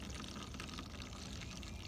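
Chlorine being poured into the water of a model water tower, heard as a steady, faint, continuous splashing pour with no break.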